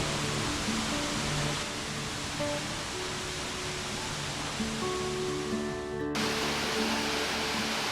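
The Ruitor cascades, a mountain waterfall in the Aosta Valley, give off a steady, dense roar of rushing water that fills the whole stretch close up, with no voices.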